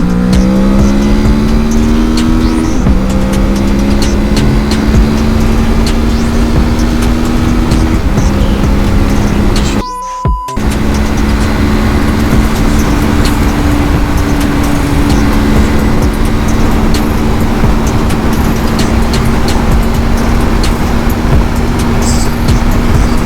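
Kawasaki Z650 motorcycle with a twin-cylinder engine accelerating hard through the gears, loud and continuous with rising pitch sweeps and brief dips at each gear change, one short dropout midway, no talking.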